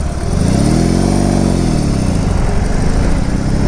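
A BMW R 18 B motorcycle rides through Bucharest traffic, its engine rumbling loud and close with a rising then falling rev in the middle and wind noise behind it.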